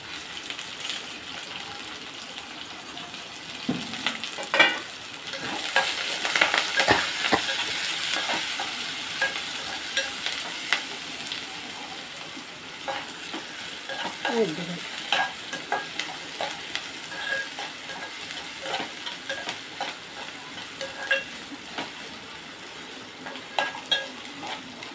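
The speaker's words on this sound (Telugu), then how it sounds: "కొద్దిసేపు ఇలా వేపేస్తున్నాను" Onions frying in a pan with oil for a coconut chana dal curry, with a steady close sizzle under repeated stirring and scraping clatter, no voices.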